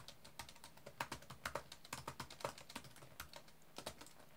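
Someone types on a computer keyboard while setting up a Nokia 5110 LCD screen with an Arduino. Quiet, irregular key clicks come in quick bursts with no speech.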